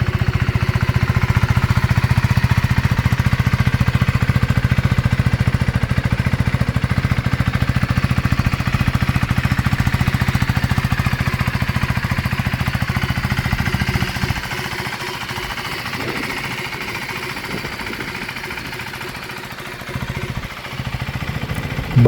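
A KTM Duke 390 single-cylinder engine running nearby, a loud steady thumping exhaust drone that drops off sharply partway through to a quieter, uneven idle with a few bumps.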